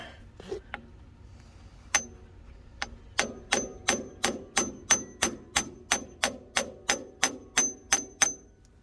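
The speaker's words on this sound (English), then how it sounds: "you need a hammer to work with it" A steady series of sharp metallic hammer strikes on a tool, about two per second, ringing close and clear after a few scattered taps, while working on a 1943 Farmall H tractor.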